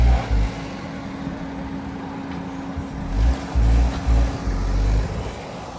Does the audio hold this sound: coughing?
no